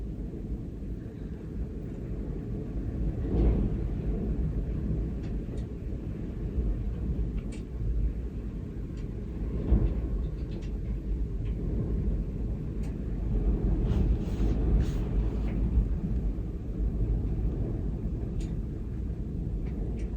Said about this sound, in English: The storm's rolled back in again.